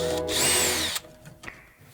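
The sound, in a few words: 5/16 driver removing hose clamp on pipe boot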